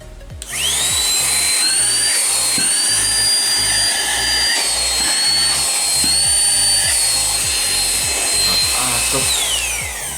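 An Aspiring Gale 1 cordless car vacuum cleaner switches on after a brief click and runs with a loud, steady high-pitched motor whine for about ten seconds, close up with no talking.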